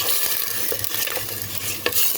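Meat fries in a pot with a steady close crackling sizzle, mixed with stirring scrapes and a sharper clatter near the end, no voices.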